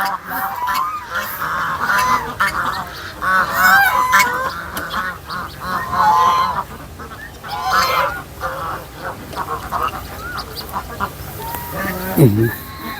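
A flock of Chinese geese honks and cackles nearby on a duck farm, in overlapping bursts, with a few duck-like quacks mixed in and some background chatter.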